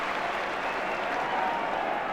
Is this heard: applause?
yes